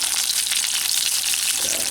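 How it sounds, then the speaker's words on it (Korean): Ham frying in a pan of oil, a dense continuous crackling sizzle, loud and close, with no voices over it. "지금 좀 튀김을 튀기고 나서도 다시 튀겨가지고 기름이 좀 많네요"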